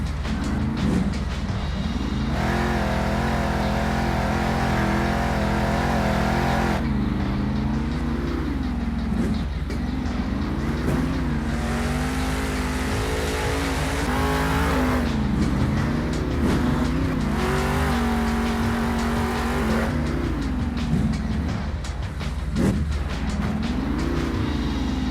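The Monster Mud monster truck engine at a Monster Jam show in San Diego revving hard on the track for a long continuous stretch, loud and close, with rising and falling pitch.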